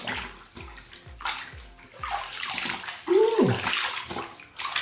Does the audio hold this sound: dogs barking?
no